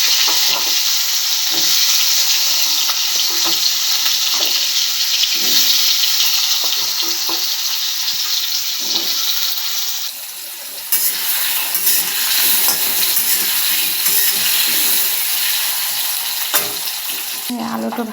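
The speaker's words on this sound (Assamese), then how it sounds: "আলুটো তেল দি পেলাই অকণমান হালধি দি পেলাই আলুকেইটা বহাই দিছোঁ।" Potatoes sizzle in hot oil with turmeric in a home kitchen pan, a steady, close, dense frying hiss that runs the whole time, briefly dipping midway, with no talking.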